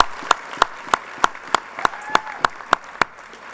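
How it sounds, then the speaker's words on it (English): At an awards dinner, a steady series of about eleven evenly spaced sharp claps rings out clearly in a measured rhythm, loud and close against a quiet room. "So give them also an applause as they come up later."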